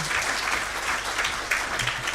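An audience at a gathering of grantees and partners applauds continuously for a presenter. The dense, even wash of many hands holds at steady loudness throughout.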